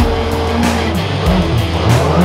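A Peugeot 208 T16 rally car slides sideways through an icy corner, its engine droning loudly and steadily, with revs rising and falling as the throttle is pushed wide open.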